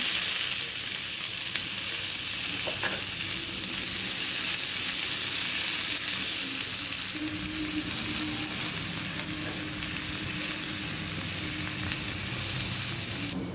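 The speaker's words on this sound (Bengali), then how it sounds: "এখন আমি সেই মাছ ভাজার তেলে দিয়ে দেব প্রথমে পেঁয়াজ কুচি" Chopped onion goes into hot oil left over from frying fish, giving a steady, close, dense sizzle that stays loud and even throughout with no voices.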